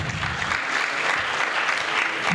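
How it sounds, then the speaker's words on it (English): Audience applause at the official launch and inaugural conference of a care organisation, a dense, even round of clapping from a sizeable crowd filling the moment. "Please let's give God a round of applause."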